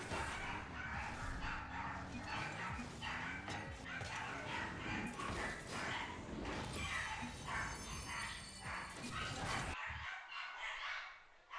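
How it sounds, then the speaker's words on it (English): Several dogs barking, yipping and whimpering together in a room during an online game session, a continuous excited commotion heard behind a voice and game sounds. "My dogs are going absolutely insane."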